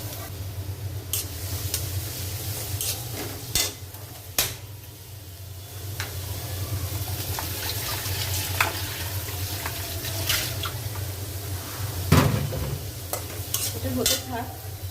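Onion fries in oil left over from frying fish while being stirred, a continuous close sizzle with repeated scraping clicks of the spoon against the pan throughout.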